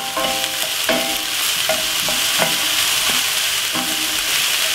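White onion and garlic fry over medium heat in a pan, a steady close sizzle broken by repeated scraping stirs of a utensil about once a second, no voices.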